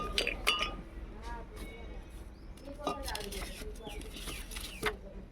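Repeated bright clinks of a spoon and ice against a glass, irregular taps under quiet talking nearby.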